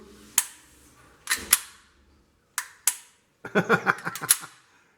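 Shots from a Canik TP9SF pistol: sharp, loud cracks, first spaced singly and in pairs, then a fast string of rapid shots fired in quick succession.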